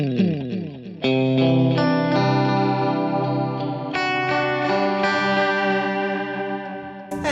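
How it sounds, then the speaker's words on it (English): Electric guitar chords through a JHS Pink Panther pedal on its heavy Mod 2 modulation setting, the tone warbling and swirling in sustained waves, loud and continuous with a few new strums. "it's a heavy amount of modulation"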